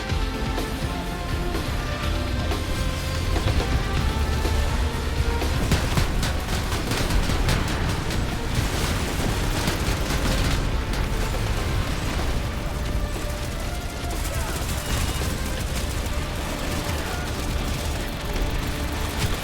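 Dense, continuous gunfire and explosive booms fill a PlanetSide 2 battle as soldiers shoot at a Harasser vehicle, loud and unbroken throughout, with rapid cracks layered over a heavy low rumble.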